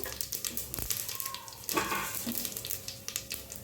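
Cumin seeds and mustard seeds crackle and sizzle in hot oil, a close, uneven spatter of small pops and hiss with a few louder bursts.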